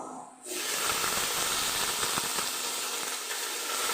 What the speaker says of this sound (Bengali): এবার সবজিটা দিয়ে দেবো